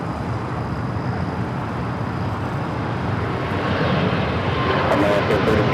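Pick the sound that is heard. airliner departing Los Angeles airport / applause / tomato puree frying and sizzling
airliner departing Los Angeles airport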